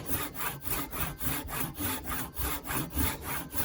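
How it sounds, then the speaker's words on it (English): A Japanese pull saw cuts a wooden tenon by hand, each stroke rasping in a steady, even rhythm of about three strokes per second, close and clear with no talk. "what I'm aiming to do is to get the saw to touch that corner and that corner of where the tenon starts"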